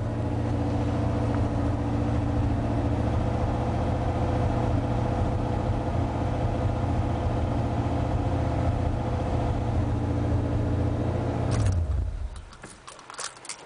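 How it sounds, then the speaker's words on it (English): A 1986 Ford F-150 4x2 idles after a cold start with a misfire, giving a loud, close, steady low rumble with a slightly uneven pulse that cuts off near the end, leaving faint clatter. "1986 Ford F-150 cold start"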